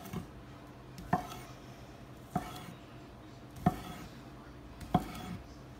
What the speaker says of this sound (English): going right back to chopping potatoes